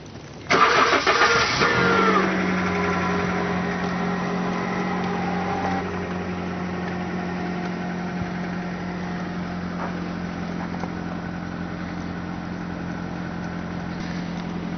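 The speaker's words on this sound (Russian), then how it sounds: "Чтобы увидеть эффект, нужно для начала завести машину" A car engine cranks and catches loudly, then settles into a steady, even idle that continues to the end, with no talking.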